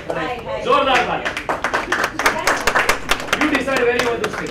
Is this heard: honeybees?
no